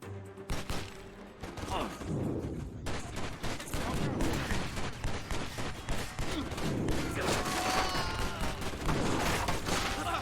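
Sustained gunfire from the 2006 video game Prey, dense bursts of shots and impacts running continuously at steady loudness for the whole stretch, with no talk over it.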